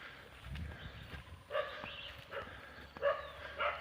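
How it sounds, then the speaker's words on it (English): A dog barks a few times in the distance beside a muddy jungle road, short sharp yaps spread over a few seconds against quiet outdoor background. "Barking."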